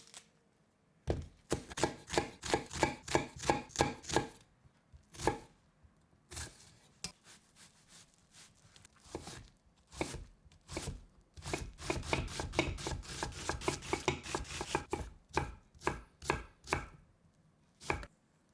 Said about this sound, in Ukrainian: Половину цибулини очистять і наріжте дрібними кубиками.